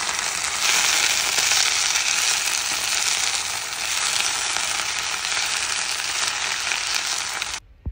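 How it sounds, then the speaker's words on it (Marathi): Freshly washed fenugreek greens dropped into a two-year-old iron wok, bursting into a loud, bright, steady sizzle that holds for several seconds before cutting off abruptly near the end; no talking. "तर आता ही धुवून ठेवलेली भाजी जी होती ती आपण कढईत टाकणार आहोत."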